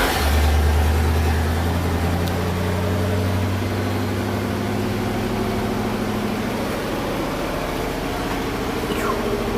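Engine of a 1973 International Harvester Loadstar Blue Bird bus firing up and settling into a high idle, a deep rumbling drone with a lowering pitch after start, close and steady throughout.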